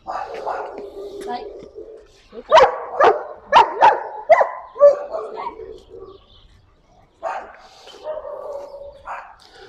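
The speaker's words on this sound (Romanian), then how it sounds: "Câinele este foarte entuziasmat, sigur că da, vrea mingea" A dog gives a run of excited barks and yips while waiting for a ball during a training session with a retractable leash. The barks come in bursts, loud and close, with talk around them.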